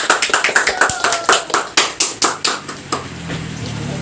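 Students in a class 8 classroom clap for group 1, a quick run of about twenty sharp, close claps that speeds up, then fades near the end into low murmuring and room noise.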